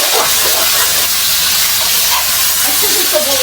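Mutton pieces fry in a hot kadai with a loud, continuous sizzling hiss that stays even throughout, close and uninterrupted.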